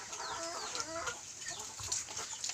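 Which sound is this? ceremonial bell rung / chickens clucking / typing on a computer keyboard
chickens clucking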